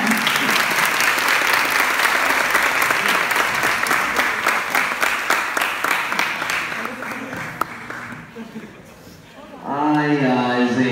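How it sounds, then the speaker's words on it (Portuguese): A crowd at an opening tribute to the Femme Queens breaks into loud, sustained applause that thins out near the end before a voice starts speaking. "Agora pode dar uma salva de palmas"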